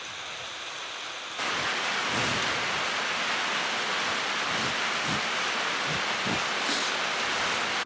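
Steady rain falls on a farm on a rainy winter day, a dense close hiss that swells after the first second, with scattered low thuds and patters throughout and no voices.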